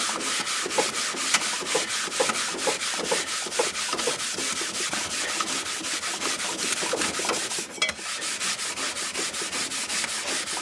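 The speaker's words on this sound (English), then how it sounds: "Now I have a piece of red Scotch-Brite pad here" Red Scotch-Brite pad rubbed steadily back and forth across an aluminum sideplate for a prop ghost trap, a dense rhythmic scrubbing with even strokes about three per second, close and continuous, with no voices.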